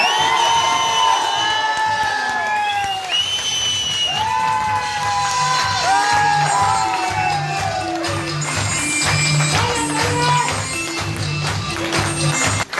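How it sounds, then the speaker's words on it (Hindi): A large crowd at a political leader's speech in Jharkhand, India, cheers and shouts, with sharp whistles rising above steady clapping, all loud and continuous. "ये सीटी, ये ताली, ये आवाज दिल्ली तक पहुंचे"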